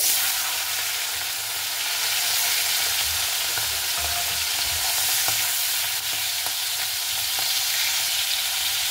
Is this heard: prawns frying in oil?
yes